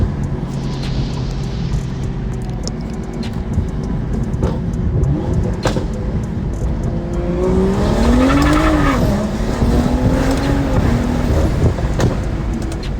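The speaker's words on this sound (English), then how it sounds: "you can hear the intake and the exhaust at the same time with the windows up" A flex-fuel BMW with the N55 engine pulls hard, intake and exhaust loud and close from inside the cabin, the engine note climbing through the revs, dipping at a shift, then rising again.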